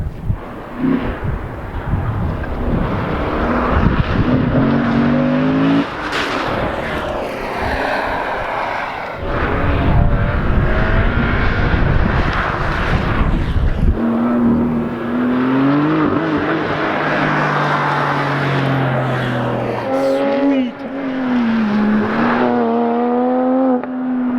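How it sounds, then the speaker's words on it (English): A Subaru WRX STI at an autocross course loudly revs and accelerates hard through the cones, engine pitch climbing and dropping with gear changes and turns, close and continuous with no talking. "First car on the track, man. He's ripping it up."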